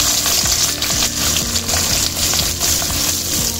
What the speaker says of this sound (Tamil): வெங்காயத்தையும் இதில் சேர்த்துக்குவோம்.